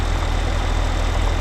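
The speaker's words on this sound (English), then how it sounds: "what's happening is it's actually trying to pull the plough" A tractor engine in Farming Simulator 15 straining to pull a plough, a steady low rhythmic diesel drone chugging evenly and continuously at moderate loudness.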